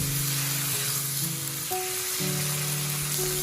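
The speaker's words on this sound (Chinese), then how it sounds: "把豆腐和里面的香料全部都翻炒均匀。" Tofu with spices stir-fries in a wok, giving a continuous close sizzle under a steady droning background, with small shifts in tone as the food is turned.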